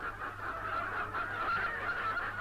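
A dense flock of hens inside a large Soviet state-farm poultry house near Gorodishche, Volgograd region, in 1966 makes a continuous, steady din of clucking and squawking with no pauses or speech.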